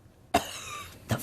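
A person coughs: one sharp, loud cough bursts out, followed a moment later by a second, shorter one, both close and in a quiet room.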